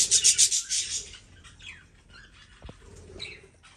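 Australian budgerigars kept with quail give sharp rasping chirps in quick bursts, loud and close at first, then scattered fainter calls and wing rustles from the flock.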